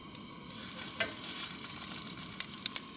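Danish pork meatballs frying in butter in a pan over medium heat, a steady soft sizzle with scattered small pops and crackles throughout, fairly quiet and close.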